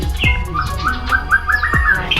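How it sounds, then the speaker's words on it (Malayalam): Caged birds in a small Thai village chirp and whistle loudly and close by, with quick rising calls and sharp squawks overlapping in rapid succession. "ഒരുപാട് കിളികളൊക്കെ ഉണ്ട് ഇവിടുന്ന്. ഇതുണ്ടോ, ഇതേപോലെയുള്ള കൂടുകളിൽ ഒരുപാട് കിളികൾ."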